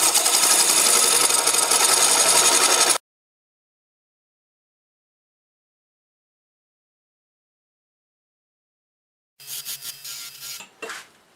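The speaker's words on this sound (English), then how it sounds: "Start with a 3/8 bowl gouge and remove most of it." A 3/8 bowl gouge cuts into black locust end grain on a wood lathe, giving a loud, steady scraping whir for about three seconds, then silence, then shorter choppy bursts of cutting.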